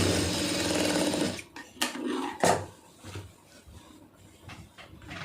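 Sewing machine stitching around a fabric piece for a tailored garment, a fast rattling run that stops partway, followed by scattered clicks and knocks of handling.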